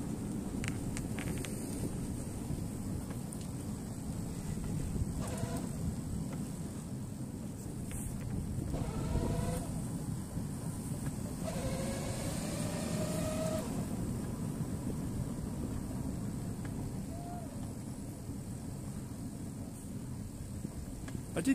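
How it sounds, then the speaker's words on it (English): Wind buffeting a microphone outdoors while riding a Sinclair C5 electric tricycle at Weston-super-Mare, a steady low rumble of wind noise throughout with faint passing sounds. "The wind's quite bad down there."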